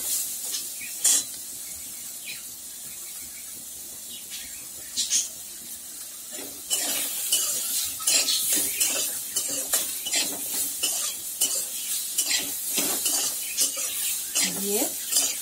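Rice frying in a pan with potatoes, salt and turmeric, a soft steady sizzle under repeated scraping and clacking of a spoon stirring against the pan, getting busier and louder in the second half.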